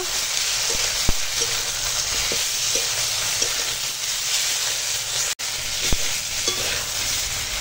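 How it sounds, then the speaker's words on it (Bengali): Vegetables for a vegetarian dudh shukto sizzle steadily in a pan, coated with a ground paste of cumin, radhuni and poppy seed. Occasional soft clicks of a spatula sound through the continuous frying hiss, with no talking. "বাটা মশলাটা দিয়ে আর একটু সময় মশলাটার সঙ্গে সব আনাজগুলোকে একটু কষিয়ে নেব"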